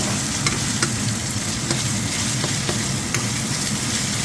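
Baby squid fry in a hot pan with a loud, continuous sizzle, while a utensil stirs them and scrapes and taps the pan at irregular intervals.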